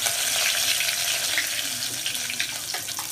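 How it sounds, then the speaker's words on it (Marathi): Curry leaves and a little coriander frying in hot oil in a home kitchen, a dense continuous crackling sizzle with faint pops, close and fairly loud throughout. "तेल गरम झालं की त्याच्यामध्ये कढीपत्ता घालायचा आणि थोडीशी कोथिंबीर"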